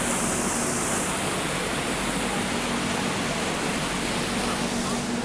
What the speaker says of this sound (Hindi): यहाँ पे आप देखिए स्टेशन पे वाटरफॉल